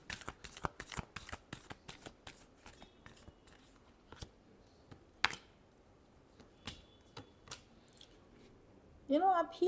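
Tarot cards are shuffled in a rapid run of crisp riffling flicks that slow and thin out into scattered single snaps, close to the microphone, before a voice begins at the very end.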